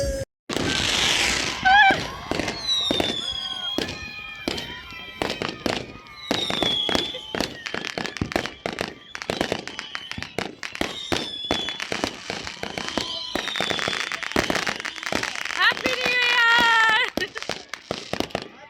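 Firecrackers and fireworks go off on all sides during a 2025 New Year celebration, a rapid irregular series of sharp pops and cracks, some close and loud. A child cries and people talk through it.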